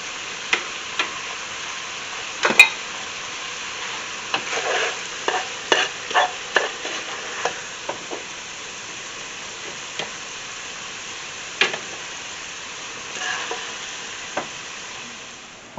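Cooked meat, ground beef for lasagna soup, sizzles softly in a pan while a slotted spoon scoops it out, producing a string of sharp metallic scrapes and taps over a steady low frying hiss.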